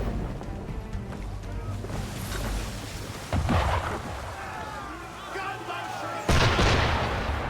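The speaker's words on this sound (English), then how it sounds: "Why is he shooting at us?" Cannon fire aimed at a ship in Assassin's Creed III booms out in two heavy blasts against a rolling backdrop of sea and wind, with a voice speaking in between.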